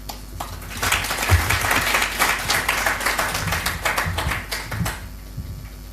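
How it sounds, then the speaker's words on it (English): An audience at a memorial commemoration applauds a speaker, close, uneven hand clapping rising quickly and continuing for several seconds before tapering off. "Another round of applause for Mr. Mutuku"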